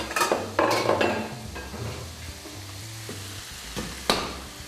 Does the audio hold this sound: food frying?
yes